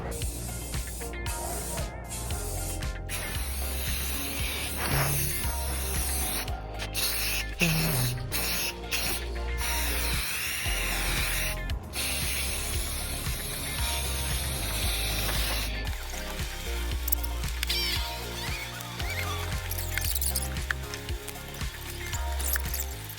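An aerosol can sprays paint onto a restored lawn trailer, long close hissing bursts with brief pauses between passes, continuing for over twenty seconds without any talk.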